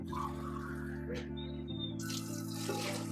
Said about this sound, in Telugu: పన్నెండు గ్లాస్ వాటర్ అయితే పోస్తున్నాం